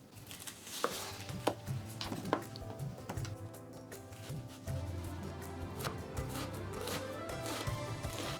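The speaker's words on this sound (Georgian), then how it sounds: "2 საშუალო თავი ხახვით დავჭრათ საშუალო ზომის ნაჭრებად." Two medium onions are chopped into medium pieces, a few distinct knife strikes on a board among quieter cutting and handling noise, with no talking.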